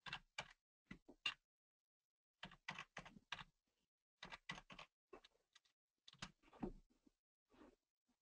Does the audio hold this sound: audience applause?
no